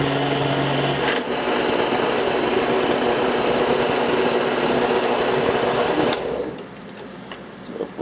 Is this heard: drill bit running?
yes